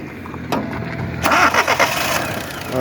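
A Daewoo Matiz engine cranks with a brief whir, then catches and settles into a steady idle, close and clear, all within a few seconds.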